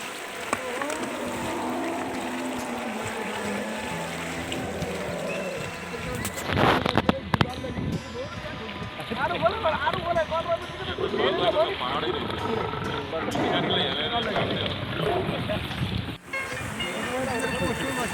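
A boat travels across calm water in Nepal, a steady broadband rumble of motor and water running throughout, with a louder burst of churning partway through and occasional voices in the background.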